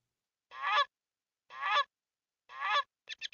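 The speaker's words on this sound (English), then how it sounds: "That was a goose." A goose honking in three clear, evenly spaced loud calls, followed by a quick cluster of shorter honks, against a silent background.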